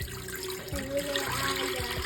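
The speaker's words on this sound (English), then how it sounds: "Add the water." Water poured into a bowl while making gingerbread playdough, a soft indoor splash and trickle with a few bubbling gurgles, close and fairly quiet.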